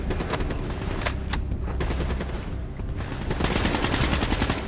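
Sustained automatic gunfire and rapid bursts from Call of Duty Black Ops 3 on PS4, dense and continuous throughout, swelling louder toward the end.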